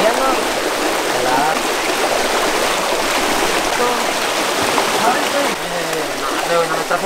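Cold river water streams and rushes steadily at a campsite river, a loud continuous wash close by with brief tonal splashes and faint voices in the background.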